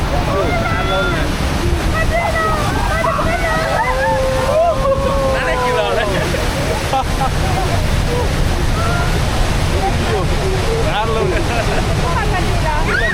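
Water crashing and splashing at a waterfall in Switzerland, a loud steady roar with wind buffeting the microphone, while people talk excitedly over it throughout.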